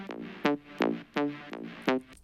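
A bright synth heavily compressed with OTT plays a rhythmic pattern of punchy stabs, about five sharp hits with buzzy, dense harmonics, loud and close.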